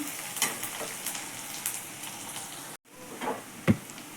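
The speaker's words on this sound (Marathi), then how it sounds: "आता आपण कांदा गोल्डन ब्राऊन होतोपर्यंत भाजून घेऊया" Onion frying in a pan until golden brown, a low, steady sizzle with occasional faint stirring taps, briefly cutting out before resuming.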